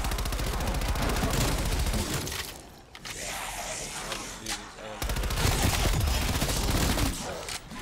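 MP5 submachine gun fire in Call of Duty Black Ops Cold War Zombies, loud rapid automatic bursts broken by a short lull, with other game sounds in the gaps.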